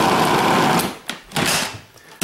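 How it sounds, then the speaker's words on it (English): A food processor pulsing peanut butter, butter and cream cheese: one long loud whirring burst, then two short quick pulses, close and motor-heavy. "A couple little bursts with a pulse."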